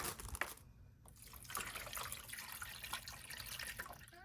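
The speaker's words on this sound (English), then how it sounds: "So I'm gonna go fill this with some water." Tap water runs steadily into an AeroGarden hydroponic reservoir, a continuous splashing trickle at close range with brief shifts in flow, and no talking.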